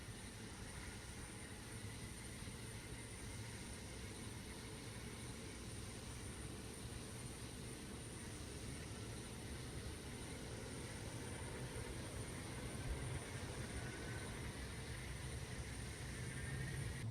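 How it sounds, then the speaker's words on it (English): Steady, loud drone of C-130 Hercules turboprop engines running through their start sequence in DCS World, a broad sustained roar with a faint high whine that swells slightly near the end, no talking. "So there we go with engine start sequences."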